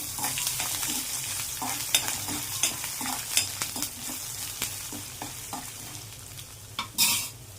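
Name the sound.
ginger pieces and tempering spices frying in oil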